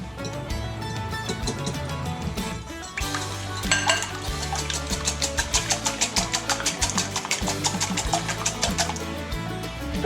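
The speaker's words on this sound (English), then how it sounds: "you want to whisk the eggs and the milk really well before you add in the flour" A whisk beats eggs and milk in a bowl for Yorkshire pudding: fast, steady, clattering strokes against the bowl pick up after a few seconds and continue over light background music.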